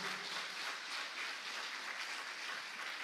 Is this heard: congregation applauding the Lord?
yes